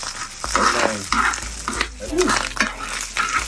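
Corned beef hash with onion and garlic frying in a pan, loud close sizzling with scraping and stirring clatter of a utensil, while someone talks over it.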